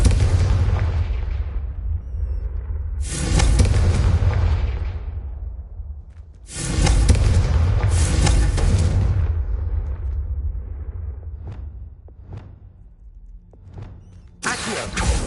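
Confringo blasting spells go off as loud explosive bursts in a video game, with several big booms separated by quieter stretches, then a few sharp pops and a final blast near the end.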